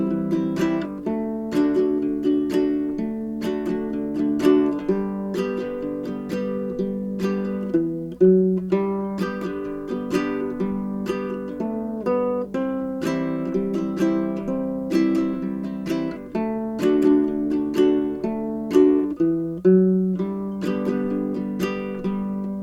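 Baritone ukulele played in a country strumming pattern that alternates single bass notes with down and up strums, a steady bouncing rhythm of plucked chords, clear and close with no voice.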